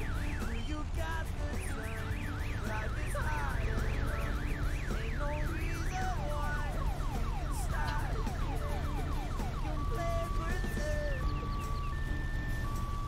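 An ambulance siren in the video game Farming Simulator 2019 wails steadily in rising and falling sweeps, then switches to a faster yelp and a two-tone pattern, loud over a constant low engine drone.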